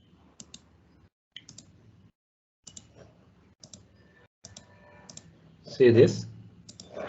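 Light, sparse clicks of keys being typed on a computer keyboard while entering an SQL query, with short bursts spread across the clip and someone speaking near the end.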